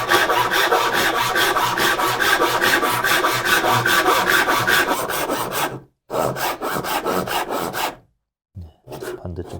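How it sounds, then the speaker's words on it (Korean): Hand saw cutting wood for a Korean four-way joint in furniture joinery, a steady rhythmic rasp of close back-and-forth strokes for about six seconds, then two shorter bursts after brief pauses. "이렇게 1차 톱질을 해주고요."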